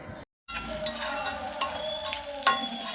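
Spices tempering in hot oil for a fish curry: after a brief silent gap, a close, steady sizzle runs on with a few spoon scrapes and clinks against the pan, no talking.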